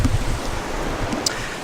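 A small waterfall outdoors gives a steady, close rush of water, a continuous broadband wash with a low rumble underneath and no voices.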